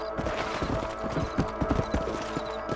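Rapid clip-clopping of horse hooves at a brisk pace in Red Dead Redemption, over a busy, steady game soundscape, with no voices.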